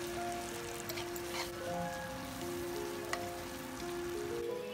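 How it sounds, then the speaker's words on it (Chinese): In a wok, sliced chili and aromatics are stir-fried ahead of the cauliflower, making a soft, steady sizzle like light rain, with a few faint clicks of stirring. "翻炒一分钟左右"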